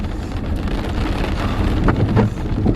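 Steady rain pours on a car while driving, a dense continuous hiss with drumming on the body and windshield, heard alone with no talk.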